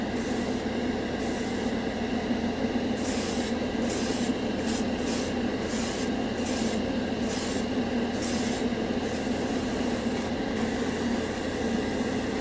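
An airbrush sprays Turbo Dork color-shifting metallic paint in a steady, close hiss that carries on alone with no talk, broken by short bursts of airflow.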